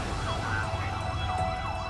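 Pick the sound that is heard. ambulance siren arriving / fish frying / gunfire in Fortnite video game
ambulance siren arriving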